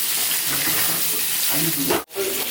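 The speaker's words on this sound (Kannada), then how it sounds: "ಆಲೂಗಡ್ಡೆ ಎಣ್ಣೆಯಲ್ಲಿ ಒಳ್ಳೆ ಫ್ರೈ ಆಗಲಿ" Potatoes frying in oil in a home kitchen pan, a steady dense sizzle heard close up that cuts out abruptly near the end, with faint voices underneath.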